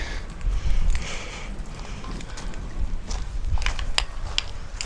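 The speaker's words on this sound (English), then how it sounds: "It's getting windy." Gusty wind rumbling across the microphone, a low buffeting roar that swells and eases, with faint clicks and knocks over it.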